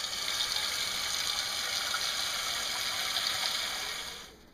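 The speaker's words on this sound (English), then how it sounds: "I'm going to throw some water in this Dutch oven style pot" Water pours steadily into a Dutch oven style pot, a continuous close rushing splash that holds evenly for about four seconds before tapering off as the flow stops.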